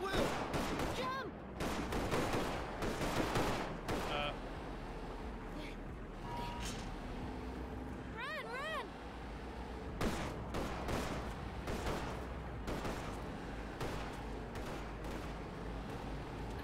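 Gunfire in the video game Road 96, rapid bursts of shots and automatic fire crackling over a constant rumble, with shouting voices mixed in among the volleys.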